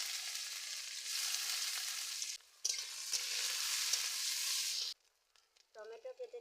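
Chopped onion hits hot oil already seasoned with bay leaf, whole spices and dried chilli, giving a loud, continuous sizzle that dips briefly, surges again and then cuts off, followed by a short burst of speech.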